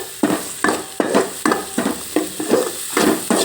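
Chopped onion frying in a little oil, stirred with quick regular strokes: about nine rhythmic scrapes over a constant close sizzle, with no talk.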